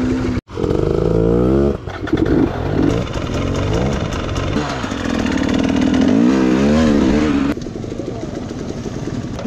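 An enduro dirt bike engine roars loud and close during a wheelie, revving and rising in pitch with rapid throttle changes, on trails in the Kawarthas.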